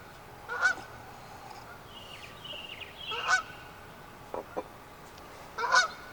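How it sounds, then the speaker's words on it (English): A goose honks outdoors three or four times at a moderate distance, loud single calls separated by pauses over a steady low background hum. "You hear that goose?"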